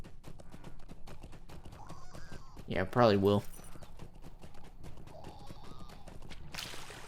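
Hooves clip-clop in a quick galloping rhythm as a horse runs in the online game The Lord of the Rings Online, steady and mid-distance, with someone talking briefly over it partway through.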